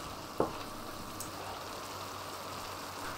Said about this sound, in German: Jetzt alles unterrühren und die Gewürze ein bisschen der Hitze aussetzen.